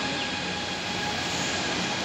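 A metro rail train rumbles along at a station, a broad steady roar with a faint metallic hiss above it, heard at a moderate distance with no voices.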